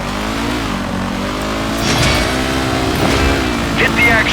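In the Stuntman Ignition racing game, a car engine revs loudly during a wheelie stunt, holding a continuous close drone that rises in pitch, with speech heard over it.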